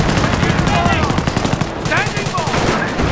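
Sustained gunfire from a Company of Heroes battle near Caen, with machine-gun bursts and rifle shots rattling loud and continuous while a voice calls out over the din.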